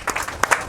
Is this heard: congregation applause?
yes